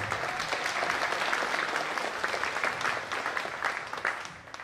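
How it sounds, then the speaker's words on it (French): Sustained applause from an audience at a pageant as a contestant is introduced, dense clapping that holds steady before tapering off slightly near the end. "dernière prétendante au titre, Lara Novelle, sous vos applaudissements."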